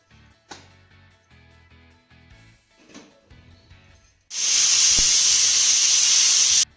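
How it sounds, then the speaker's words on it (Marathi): A pressure cooker of sorghum khichdi on a medium gas flame lets out a loud, sustained hissing steam whistle after a few quiet clinks and knocks. "कुकरच्या 5 ते 6 शिट्ट्या झाल्यानंतर गॅस बंद करायचा"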